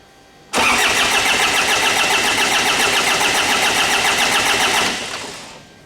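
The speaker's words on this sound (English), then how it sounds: "So I try to crank the engine and see if the injector is firing." A Ford Ranger / Mazda BT-50 engine with a no-start fault cranks steadily for about four seconds, a loud, even, rhythmic churn of the starter that never catches, then winds down.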